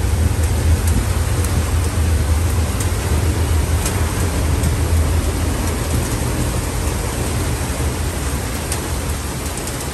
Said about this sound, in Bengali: এই যে এইটার ওপর আওয়াজ হচ্ছে, এগুলো শিলাবৃষ্টিই হচ্ছে।